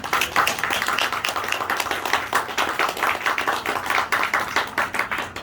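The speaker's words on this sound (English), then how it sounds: "That deserves a hand clap to you all." An audience at a 100th birthday celebration claps its hands, a steady close round of many overlapping claps with a faintly rhythmic pulse lasting throughout.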